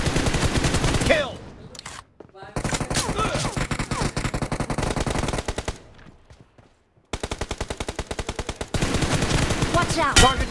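Rapid automatic gunfire in the BGMI video game comes in loud, sustained bursts separated by short pauses. Game voice callouts can be heard between the volleys.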